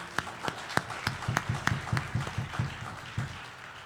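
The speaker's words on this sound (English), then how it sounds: "give her a round of applause" A church congregation claps for a graduate at a Sunday service, a small group giving sparse, fairly distinct claps in a loose rhythm, moderately faint and close.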